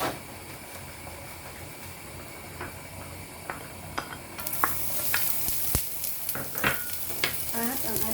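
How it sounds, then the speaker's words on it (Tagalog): Garlic sautéing in hot oil for a vegetable stir-fry, a soft sizzle under scattered utensil clinks and pan scrapes that grow louder and busier partway through. "Oil para sa paggisa ng garlic"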